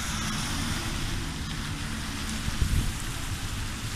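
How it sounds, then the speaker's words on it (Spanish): Steady rain falling outdoors, a dense continuous hiss of drops on surfaces with a brief heavier patter near the end, moderately loud with no talk. "vale verga la lluvia"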